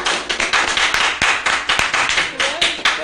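Audience clapping at a talk or lecture program, a steady ripple of many hands with a few sharper claps standing out, continuous and fairly close for the whole stretch.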